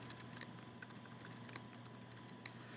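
Typing text on a computer keyboard, a quiet run of irregular key clicks clustered in small bursts over a steady low room hum, with no one speaking.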